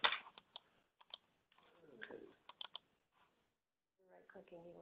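A computer mouse clicks in an office setting during a presentation, sparse sharp clicks at irregular intervals over near-silence, with a voice briefly audible toward the end.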